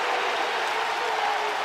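Crowd applause at a 2020 Big Ten college wrestling championship bout, Iowa versus Ohio State at 184 lbs, a steady broadband clapping wash filling the arena at moderate distance with no talk over it.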